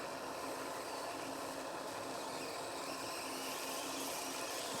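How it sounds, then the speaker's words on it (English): Steady broadband hiss from a Jensen Model 25 steam engine fizzling around its safety valve, a continuous close, even rushing sound with no rhythm or pauses. "Fizzling around the safety valve"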